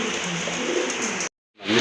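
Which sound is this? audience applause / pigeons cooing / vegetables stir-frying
pigeons cooing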